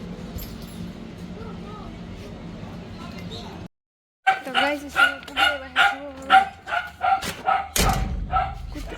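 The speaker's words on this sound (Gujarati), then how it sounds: "કૂતરું" A dog barks repeatedly in a quick rhythmic series after a brief silence, near and loud, with a person talking earlier.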